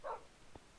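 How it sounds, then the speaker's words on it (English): A pet dog in a video game gives one short, faint bark near the start, followed by near silence. "these are my dogs"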